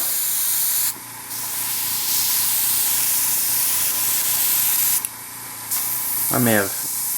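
Tamiya Spray Work HG airbrush spraying thin paint in short bursts, a loud close steady hiss that cuts off briefly between passes, with a soft rising squeak near the end.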